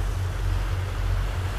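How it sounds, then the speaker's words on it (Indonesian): Steady wind and sea waves on the Java Sea during a west wind, a continuous low rumble of wind buffeting the microphone and surf washing around, loud and unbroken with no talking. "angin ini masih cenderung dari barat ya Wan ya, menuju ke timur"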